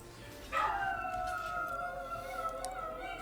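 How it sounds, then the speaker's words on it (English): Several dogs howl together in a long, wavering, drawn-out chorus that rises and holds, fairly close and steady over a faint background, with no talking. "These freaking dogs of mine."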